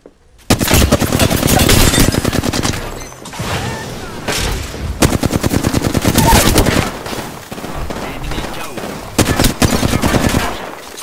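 Rapid automatic gunfire from the video game Apex Legends, loud and close, in long sustained bursts with brief pauses between them and no talk over it.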